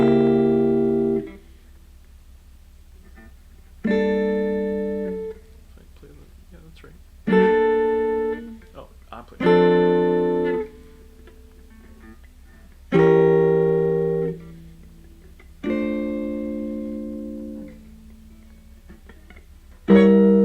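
Jazz diminished chords voiced as alternating drop 2 and drop 3 shapes, six sustained chords struck one after another with short gaps, clear and alone without talk.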